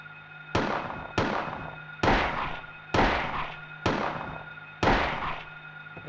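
A gun is fired at monsters in the Silent Hill video game, six loud, evenly spaced shots with decaying booms, each roughly a second apart.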